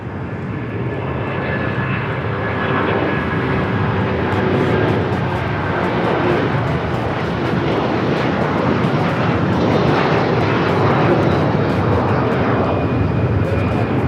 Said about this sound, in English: That was Avianca Cargo in the green livery, flight 7081, taking off to Guadalajara on the A330-300 converted freighter.